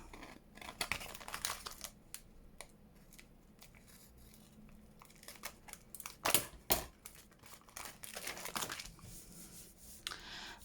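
Scissors snip small bits out of paper for a junk journal window envelope, quick close crisp clicks and cuts scattered irregularly throughout, with a louder cluster past the middle and no talk.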